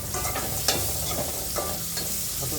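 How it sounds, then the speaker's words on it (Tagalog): Garlic sizzles steadily in hot oil as it fries toward golden brown, close and loud, with occasional stirring scrapes breaking through the constant crackle. "golden brown yung bawang para mabango ba"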